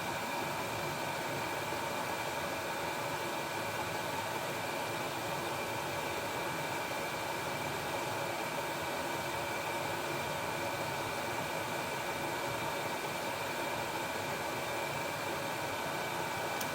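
A steady, loud roaring hum from a faulty diesel heater running continuously, with no variation and no voices.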